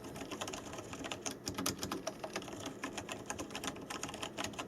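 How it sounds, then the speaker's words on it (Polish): Soft, rapid keystrokes on a Logitech G910 Orion Spark mechanical keyboard, muted and quiet, tapping in an irregular rhythm with no talking. "niezwykle cicha klawiatura, naprawdę dyskretna"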